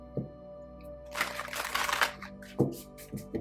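A new oracle card deck is shuffled by hand, giving a few quick riffles and snaps, close and fairly soft, with a longer flurry of cards in the middle.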